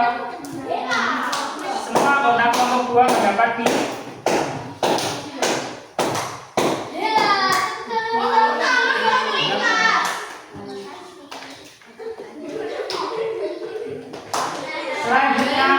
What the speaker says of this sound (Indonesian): Ya, tepuk tangan untuk kelompok 2.